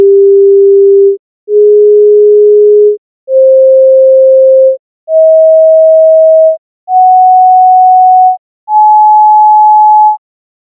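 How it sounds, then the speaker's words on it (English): Six pure sine tones of the solfeggio scale, from ut up to la, play one after another, each a steady loud beep lasting over a second with short silent gaps, rising in pitch step by step. "Here's a sound clip that plays these frequencies, starting with the ut and ending with the la."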